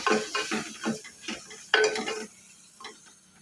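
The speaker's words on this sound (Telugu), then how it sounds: "ఇవన్నీ మొత్తం బాగా మిక్సింగ్ అయ్యేలాగా కలుపుకోవాలి" Spoon stirring garam masala through an egg biryani mixture in a pot, a run of close scraping, clinking strokes at an uneven rhythm, with a brief louder scrape midway before it tapers off quietly.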